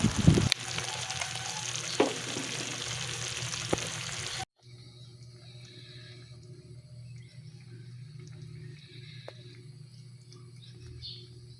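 Taro stalks and leaves dropped into a hot pan for laing sa gata give a brief loud sizzle at the start, then settle into a quiet, steady frying hiss with faint stirring.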